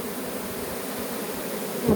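A continuous swarm of honeybees hums around an apiary hive as the colony moves toward the entrance, giving an even, close buzz with a brief louder bump near the end and no speech.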